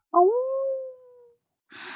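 A human voice imitates a dog's howl, rising into one long, loud, sustained wail that slowly fades, followed by a short breathy noise.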